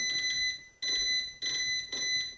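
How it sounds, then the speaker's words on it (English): Shrill electronic beeps from a Unitop U-Trainer smart gym's control dial, three sustained high tones in a row separated by short gaps, loud and close with no talk. "Did I mention how annoying that beep is?"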